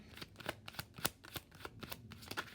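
Tarot cards are shuffled and drawn during a reading: a quick, close, soft series of papery riffles and slaps, faint and with no talking.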